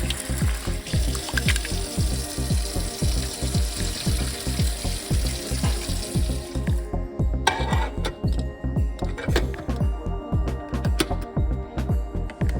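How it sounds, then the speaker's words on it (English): Rice is rinsed by hand under a running kitchen tap, producing a steady, loud rush of water with rhythmic swishing and sloshing pulses throughout. "I'm going to rinse it off 3 times to wash it"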